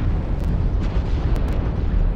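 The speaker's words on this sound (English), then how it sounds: "Artillery strike activated." An artillery strike explosion in the MechWarrior Online video game, a loud sustained rumbling blast that fills the whole clip with heavy low roar and a few crackling pops.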